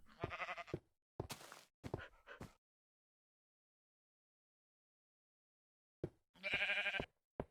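A few short sheep bleats from a video game come in quick succession, then a long silence before another bleat returns near the end.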